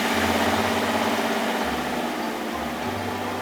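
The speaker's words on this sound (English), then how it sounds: "The tractor flattens down the asphalt with its roller." Animated tractor with a heavy roller flattening fresh asphalt, its engine giving a steady low idling rumble with vibration that swells and eases in slow pulses, continuous and fairly close.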